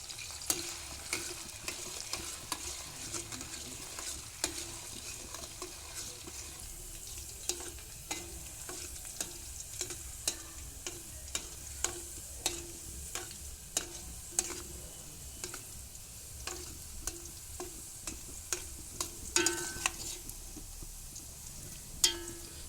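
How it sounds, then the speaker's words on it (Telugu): Coconut oil mixed with aloe vera gel bubbles on the stove, a faint continuous crackle dotted with frequent small pops and light stirring scrapes over a long stretch. "మీరు ఇలా కలుపుతూ ఉన్నప్పుడు ఈ నూనె ఏదైతే మరుగుతుందో ఈ కలబంద గుజ్జులో"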